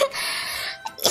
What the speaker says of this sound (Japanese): くしゃみが出ました。